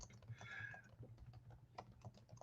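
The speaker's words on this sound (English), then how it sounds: "So I'm typing. I'm literally doing this live." Someone types live on a computer keyboard, a quick uneven run of close, soft key clicks with a brief faint tone in the background.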